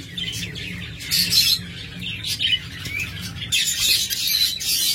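Caged pet lovebirds or budgerigars chirping busily up close in a steady stream of high, overlapping tweets and chatter, with a low background hum and no talk.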